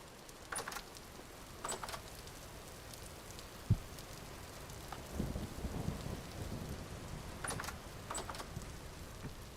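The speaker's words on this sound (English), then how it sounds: "That's what makes the lightning exciting, JC." Steady rain hiss from a thunderstorm in the video game Vintage Story, with a few soft distant thunder rumbles and faint crackles rising over the downpour, no voices.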